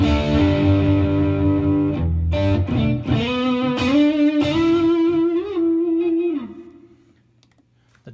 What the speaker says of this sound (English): if I bypass the delay, then you can hear that short reverb time.